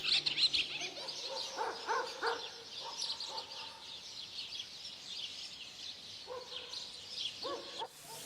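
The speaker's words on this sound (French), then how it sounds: "une colonie d'hirondelles de fenêtres niche ici depuis des décennies" House martin colony nesting at an old farm with a mud courtyard and cattle barn, a busy chorus of high chirps and twitters from many birds at close to middle distance, steady throughout with no voices.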